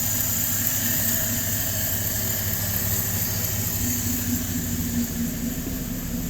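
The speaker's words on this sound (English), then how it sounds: "by hearing the exhaust, maybe you'll hear the roughness of it" A LaSalle car's exhaust runs rough while the engine idles under fuel starvation, a steady close droning rumble with a faint high whine and no voices.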